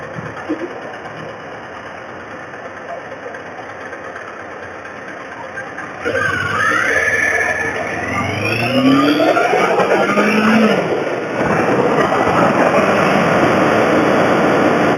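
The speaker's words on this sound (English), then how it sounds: "Quite addictive riding a large capacity motorcycle." A large motorcycle engine hums, then revs up and accelerates with rising pitch, loud and close, wind noise throughout.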